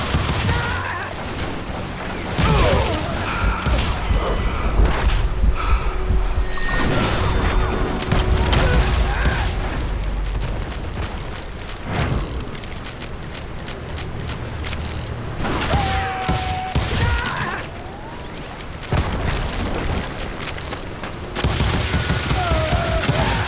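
Gunfire in the western shooter Call of Juarez: Gunslinger crackles in repeated loud bursts and rapid volleys, with booms and mechanical clatter between shots, close and dense across the whole stretch.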